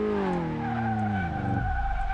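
Tires of a Honda Civic EK9 Type R with a B-series engine screeching in a skid on an empty airfield in Car Mechanic Simulator 2018, a loud continuous squeal over engine drone whose pitch slides downward, then roughens near the end.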